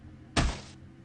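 One heavy, dull thud lands against a door in the Chaos;Child visual novel, short and fairly close, then fades into quiet room tone.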